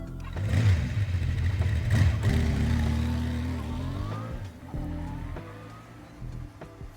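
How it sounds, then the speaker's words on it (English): A video-game motorcycle engine hums loudly up close, then its pitch sweeps and falls as the bike slows on a street, ending in lower, quieter rumbling with light clatter. "I slow down as I approach the familiar street on my motorcycle."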